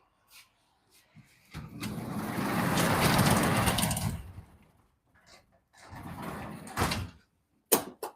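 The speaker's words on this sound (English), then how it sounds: "I might close this door because it's a bit cold outside" A door in a workshop is pulled shut, a long rumbling slide followed by a second shorter movement and a sharp knock near the end, fairly close and with no talk.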